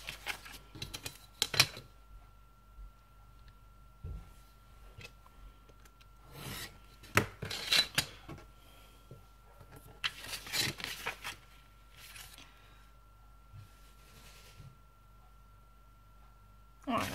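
Scissors or a blade rasp through craft paper while a card is being assembled, in short scattered bursts between quiet moments, with someone talking at times.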